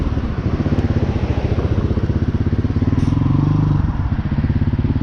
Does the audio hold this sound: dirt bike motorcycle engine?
yes